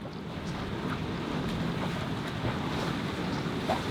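Sailboat motor sailing at about 5.7 knots in light wind: a constant broadband rush of wind and water along the hull with a low engine hum, steady throughout.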